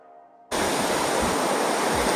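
Forest stream near Dumpavalasa waterfall in Maredumilli, a loud, steady broadband rush of flowing water that bursts in abruptly after a quiet start and continues unbroken and close.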